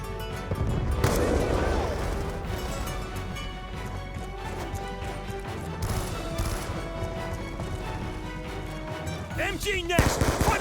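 Gunfire in the Black Ops 2 video game, a loud, busy firefight of repeated sharp shots and heavy booming reports under a steady battle din, with voices calling out amid the shooting.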